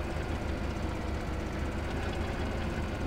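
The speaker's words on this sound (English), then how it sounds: "it's a Russian crawler tractor. It's just a big old thing." A big Russian crawler tractor in Farming Simulator 2013 gives a constant heavy, dense engine drone with a low rhythmic throb, loud and steady throughout with no talk.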